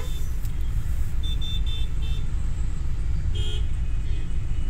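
Long traffic jam on a road in Jammu, with steady engine and road rumble throughout and a few short, thin car horn beeps sounding at a moderate distance.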